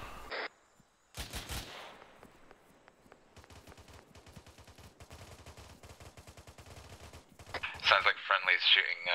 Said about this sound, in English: Sounds like friendly's shooting somewhere near us as well, to the southwest